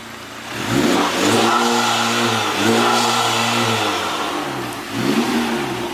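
Close, loud revving from a Honda Civic Type R FK8 engine with its intake sound: a rapid climb, a sustained high hold with a brief dip, then a drop to idle and a final short blip.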